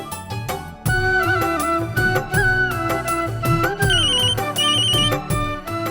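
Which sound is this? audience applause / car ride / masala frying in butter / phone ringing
phone ringing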